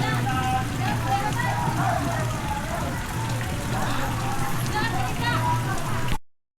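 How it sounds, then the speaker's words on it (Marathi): Heavy rain pours steadily over a village with paddy fields and a brimming well, a dense continuous hiss throughout while a voice talks over it. "पाऊस पण आज रप्पाके पडायला लागलाय"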